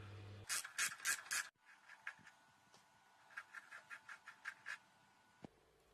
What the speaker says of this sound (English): The caliper is going to be the first item to remove, and that's fairly straightforward with a couple of bolts here.